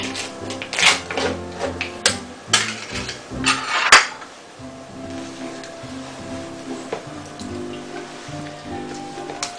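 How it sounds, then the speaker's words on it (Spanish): Cream cheese and peach are stirred together in a bowl, with irregular clinks and taps of a utensil against the dish, busier at first and then settling into softer scraping. "Y ahora cogemos el queso, lo añadimos junto con el melocotón y lo mezclamos bien"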